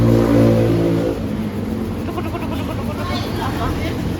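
A car engine revs up loudly and nearby, holding a strong low drone before settling into a rougher idle, with voices talking over it.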